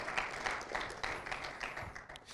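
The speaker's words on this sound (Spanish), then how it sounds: "Dale un aplauso al Señor" A church congregation breaks into applause during a Spanish-language sermon, a steady wash of many hands clapping at once, fairly distant and continuous for the whole stretch with no voices over it.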